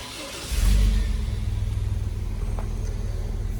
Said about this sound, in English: this is what a warm start sounds like now